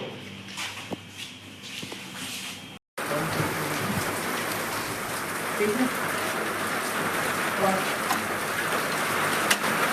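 Steady rain falls outside a new house during electrical fitting work, a dense continuous hiss that drops out briefly near the start and then returns fuller and louder, with faint voices underneath.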